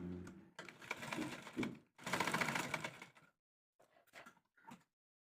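Sewing machine stitching a churidar seam, running in two loud bursts of steady mechanical whirring with a pause between, then a few short faint taps and clicks as it stops.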